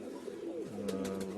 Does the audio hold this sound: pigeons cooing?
yes